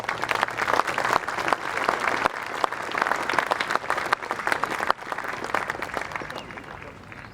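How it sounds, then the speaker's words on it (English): A crowd at the World Bowls Championships para pairs medal ceremony applauds the bronze medal winners, with sustained, fairly loud clapping that tapers off slightly toward the end, without talk. "Please, another round of applause for our bronze medal winners."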